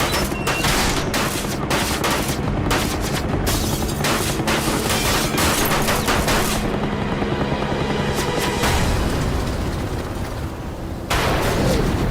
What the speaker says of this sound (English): So he makes one pass at this valve and disintegrates it with a .50 caliber.